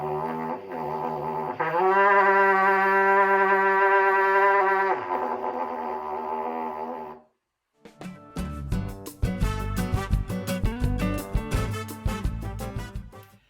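A trumpet plays long low pedal tones, one sustained note swelling in, followed by a busier passage of low, punchy notes; close and fairly loud, with no talking.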